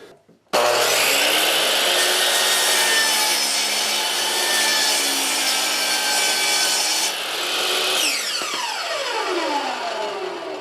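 Circular saw held by hand making a shallow partial cut into a wooden board on a workbench build, a loud close whine and grinding rasp through wood for about seven seconds before the blade spins down.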